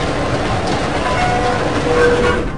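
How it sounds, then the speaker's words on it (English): Underground subway train from the video game Zork Grand Inquisitor, a steady loud rumbling rail ride with faint tonal squeals, continuous throughout without talk. "The underground. It's a subway."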